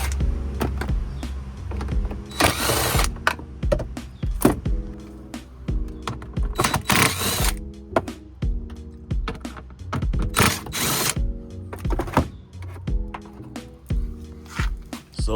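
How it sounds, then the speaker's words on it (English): Wrench or ratchet work loosening bolts inside a Volvo, with repeated clicking ratchet bursts, clanks and scraping metal taps, close and uneven in rhythm throughout. "Pull these bolts and see if it will just pull out."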